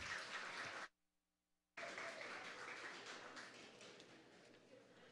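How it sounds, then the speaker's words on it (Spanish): Audience applause at a regional oratory contest final in Darién province, Panama: broad clapping runs, stops in a brief near-silent gap, then resumes steadily and fills the rest of the clip. "Fuertes esos aplausos para la Fundación Cable and Wireless Panamá"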